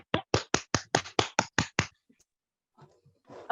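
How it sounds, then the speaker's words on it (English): About nine sharp hand claps ring out in an even, quick rhythm, close and fairly loud, then stop, leaving near silence before some faint rustling noise. "let's give an applause."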